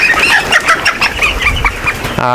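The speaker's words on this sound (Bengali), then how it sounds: "একটা মুরগি ধরি" A layer pullet hen clucks and squawks loudly and continuously at close range on a poultry farm as it is caught, with rapid agitated calls throughout.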